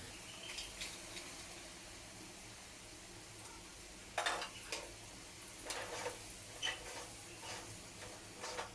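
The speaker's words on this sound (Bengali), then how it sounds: "ডাল দিয়ে কিছুক্ষণ ভালো করে ভেজে নেব।" Lentils (dal) frying in a pan with green chillies as a spoon stirs them, giving faint, scattered metallic scrapes and clinks over a low steady background, with a few sharper knocks in the second half.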